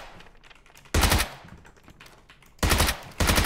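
Gunshots in PUBG: two loud, sharp bursts of rapid automatic fire stand out against faint background clicks and rustling, the second burst starting a couple of seconds after the first, with no talking.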